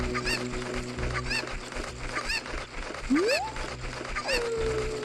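Game fowl calls from a chicken carried in a Zelda game, Master Quest 3D, repeated at roughly one-second intervals with a rising and a falling tone near the end, over soft steady game ambience.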